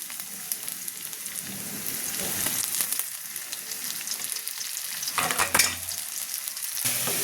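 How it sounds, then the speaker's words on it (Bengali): Onions sizzle and crackle steadily in a hot pan, a continuous close frying hiss with occasional stirring scrapes and louder bursts, no voices. "পেঁয়াজ একটু ভাজা ভাজা হয়েছে"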